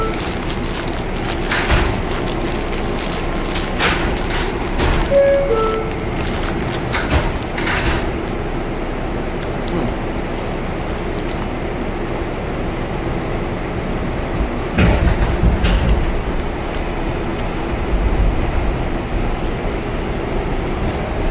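A Manhattan-bound 7 local subway train in New York runs steadily, with a continuous rumble and rattle of the car, intermittent clanks and door sounds, and no talk over it.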